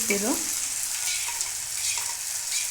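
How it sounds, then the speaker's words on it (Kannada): Steady, bright sizzling of a spice tempering frying in hot oil, continuous and close, with a brief clatter at the start and no voices. "ಒಗ್ಗರಣೆ ಪೂರ್ತಿ ಚೆನ್ನಾಗಿ ಫ್ರೈ ಆಗಿದೆ"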